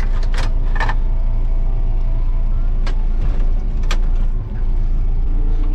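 A vehicle drives along on a farm errand to fetch oats, its engine rumbling loud and steady the whole way, with brief clunks and rattles rising above it now and then.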